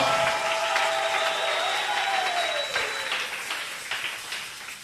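A church congregation at a French-language service applauds and cheers, with loud sustained clapping and a few voices rising over it, tapering off slowly toward the end.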